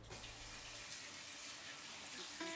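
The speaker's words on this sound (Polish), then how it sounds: "Zalewam wszystko zimną wodą." Cold water pours steadily from a tap into a pot holding pork knuckle, allspice, black peppercorns and bay leaves, a continuous close rushing splash with no talk.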